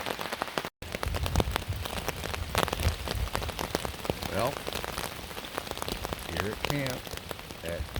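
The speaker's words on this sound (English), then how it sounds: "As promised, it is raining, and it is going to rain all night." Steady rain patters densely on a surface nearby at night on a hike at Pictured Rocks, a continuous hiss of drops with a few louder splats and a brief dropout early on.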